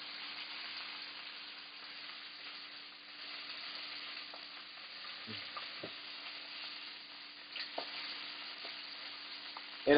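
Bacon frying in a pan, heard as a soft, steady, somewhat muffled sizzle with a few faint pops and clicks, ending in a sudden knock.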